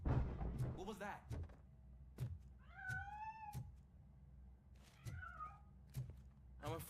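A cat in the game Robocop Rogue City gives two drawn-out meows, separated by a pause and set over low rumbling game ambience with short thuds and clicks.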